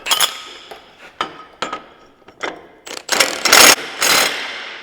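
A Milwaukee power tool with a 6-point socket works on a ConMet truck wheel hub, starting with scattered clicks and short whirs and building to loud, close rattling bursts near the end.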